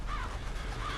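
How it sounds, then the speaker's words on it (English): Crows cawing in the Hemwick area of the Bloodborne video game, two short harsh calls in quick succession over a constant low ambient rumble. "Birds."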